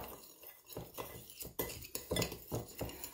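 Chicken wings tossed with seasoning in a bowl, with a utensil clinking and scraping against the bowl in a quick, irregular rhythm, close and fairly quiet.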